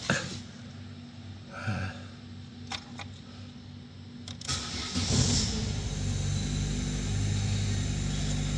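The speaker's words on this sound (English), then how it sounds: "Anyway, let's get it started and warmed up." A Vauxhall Opel Tigra car engine with a newly replaced catalytic converter starts up close by: a few sharp clicks, then a brief crank that catches and settles into a steady, even idle over a constant fan hum, with no talking.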